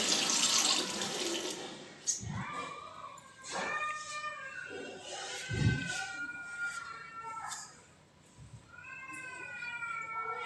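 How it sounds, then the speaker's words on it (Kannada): Water runs from a sink tap while a face is being washed, a brief hissing rush at the start, then a cat meows repeatedly and loudly nearby over a faint background. "ನೀಟಾಗಿ ಒಂದ್ಸಲ ಫೇಸ್ ವಾಶ್ ಮಾಡ್ಕೊಳ್ತೀನಿ"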